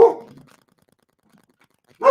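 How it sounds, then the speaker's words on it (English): Two close dog barks, one at the start and one at the end, separated by nearly two seconds of silence. "I apologize for the barking."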